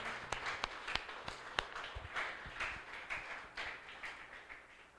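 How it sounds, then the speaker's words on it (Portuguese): Scattered hand claps from a church congregation build into a brief round of applause, fairly faint and uneven, with sharp individual claps standing out. "Aplaude ao Senhor."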